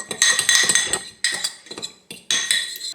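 A spoon clatters against a bowl as chicken stir-fry marinade with lemon juice and salt is mixed, in close, loud bursts of clinking and scraping broken by short pauses.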